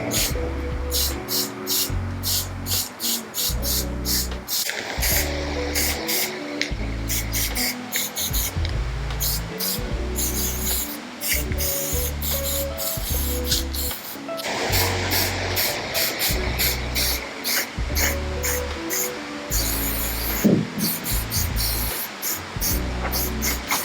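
Spray paint can hissing out light blue onto a graffiti-style cloud in a bold pop flower mural, a continuous near spray in long bursts over low background music, with no talking.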